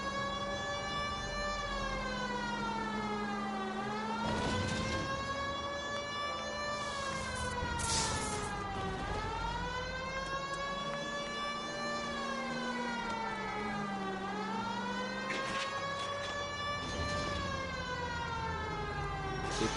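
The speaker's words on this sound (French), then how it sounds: "j'ai activé les sirènes" A police car siren in the L.A. Noire video game wails continuously and loudly, cycling up and down in long sweeps with no pauses over the whole span.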